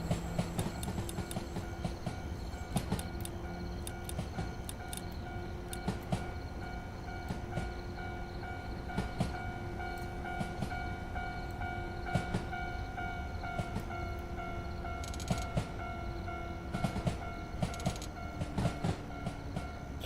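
Train running in Train Simulator Classic, a steady rolling rumble with rhythmic wheel clicks over rail joints and sustained engine tones, continuous and fairly close throughout.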